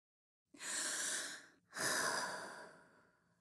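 A cartoon character takes a deep calming breath, a close, clear inhale followed by a long audible exhale, heard alone against silence.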